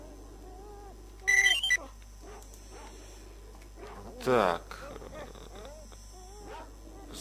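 Dogs in OGSE Stalker, a post-apocalyptic shooter game, bark and yip in brief scattered bursts alongside other game sounds, with someone speaking briefly.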